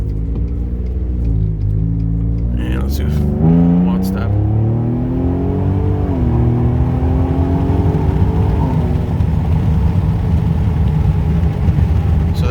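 Ford Raptor EcoBoost truck in two-wheel drive launching hard, its engine rumbling and revving upward in rising, sweeping pitch as it accelerates, loud and close, with someone talking over the start.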